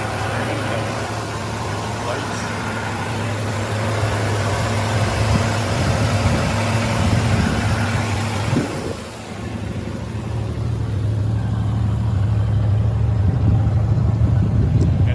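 An original muscle car without headers idles smoothly and quietly with its air compressor running, a steady low engine hum that dips briefly partway through, while someone talks over it.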